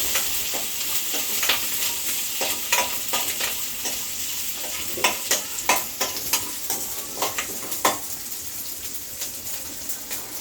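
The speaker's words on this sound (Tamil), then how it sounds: "பூண்டு கொஞ்சோண்டு போட்டுக்கணும் பச்சை மிளகாய் போட்டு நல்லா வதக்கிட்டு" Garlic and green chilies sautéing in a pan make a constant sizzle, punctuated by repeated sharp scrapes and clinks of a spatula stirring, close and without speech.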